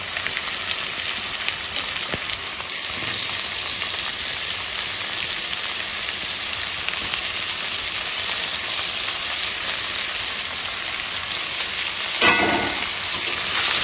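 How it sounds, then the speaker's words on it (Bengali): Onion and potato frying in oil with turmeric and salt, a continuous dense crackling sizzle, close and steady, with a brief clatter near the end. "এবার এর মধ্যে হলুদ লবণ দিয়ে পেঁয়াজ আলু আর পেঁয়াজটা ভালো করে ভেজে নেবো"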